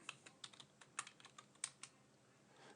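Quiet, close keystrokes on a computer keyboard tap out a short command in an irregular run of clicks, then the typing trails off.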